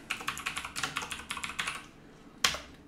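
Typing on a computer keyboard while setting up OpenBSD, a quick run of close, crisp keystrokes for about two seconds, then a short pause and one louder final key press.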